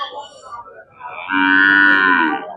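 Cattle at a busy cattle market in Tamil Nadu: a nearby cow gives one loud, drawn-out moo after quieter lowing and market background noise.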